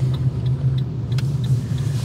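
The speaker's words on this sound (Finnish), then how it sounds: "mä ajelen nyt täällä Tampereen ympäristössä" A Fiat 500 Hybrid drives around the Tampere area, filling the cabin with a steady low engine and road rumble that holds even throughout, with no talking.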